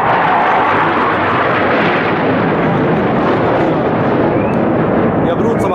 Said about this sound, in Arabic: قصف من طيران الميك الحربي على مدينة يبرون